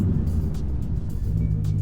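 C7 Corvette with an AWE Track Edition axleback exhaust and AWE X-pipe revving hard near redline in an underpass, a loud, sustained, booming engine roar running the full length with no talk.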